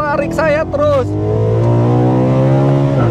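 A BMW M3 E92 GTS engine screams at high RPM, a loud sustained rising howl close by, with someone talking excitedly over the start.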